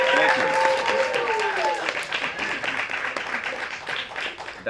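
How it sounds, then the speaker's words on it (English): Audience applause at a live conference show, a dense wash of many hands clapping that sustains throughout, with voices and cheering whoops over the top early on. "Let's have a big round of applause for Diane and Jeffrey from SCS."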